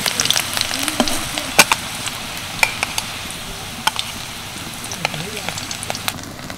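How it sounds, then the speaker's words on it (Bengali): Oil sizzles softly under stuffed spiny gourds (kakrol) frying in a pan. Scattered sharp pops and light clinks of a utensil break through the low crackle. "এবার এই পুর ভরা কাঁকরোলগুলোকে আমি তেলে ভেজে নেব।"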